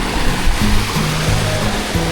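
River water rushes and churns steadily where two jungle streams meet near a waterfall in Hulu Langat, a dense, close, continuous wash of flowing water.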